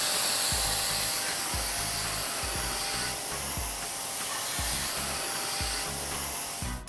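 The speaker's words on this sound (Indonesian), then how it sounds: "saya semprot sekali lagi untuk membersihkan sisa-sisa lumut yang tadi sudah digosok" Water is sprayed onto a garden container in an urban vegetable garden to rinse off moss that has been scrubbed loose. A steady, close hiss runs throughout, with rhythmic rubbing strokes beneath it.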